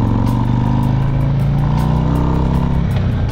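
Motorcycle engine and exhaust while riding, a loud, steady low throb with layered harmonic drone and slight pulsing, close and continuous for the whole stretch without talk.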